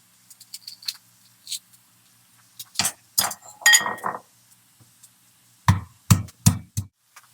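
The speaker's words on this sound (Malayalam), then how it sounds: "ഒരു കഷ്ണം ഇഞ്ചി പിന്നെ ഒരു നാല് ഇതുപോലെ വലിയ വെളുത്തുള്ളി ഇതും കൂടെ ഇതൊന്ന് ചതച്ചിങ്ങ് എടുക്കാം" Ginger and fresh garlic cloves crushed by hand, heard as a string of sharp, close knocks and clinks in irregular bursts separated by quiet gaps.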